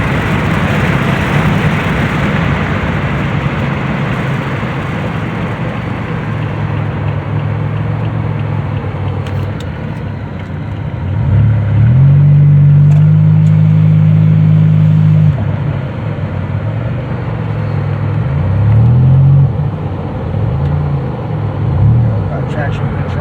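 A 2007 Pontiac Grand Prix GT engine runs steadily throughout, with a low, broad rumble that swells into a louder rev around the middle and again near the end.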